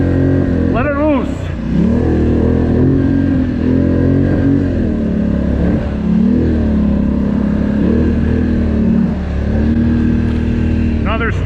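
Polaris Sportsman XP 1000 Premium ATV engine revving hard up a steep, winding hill, a loud continuous drone with rising and falling pitch as the throttle surges, rev spikes at start and end.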